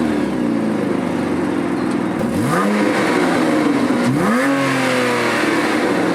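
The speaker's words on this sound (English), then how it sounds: "quickly hop inside, start the engine, guys, have a little listen" Porsche flat-six engine idling loud and close, with two sharp revs that sweep up and settle back to a steady mechanical idle.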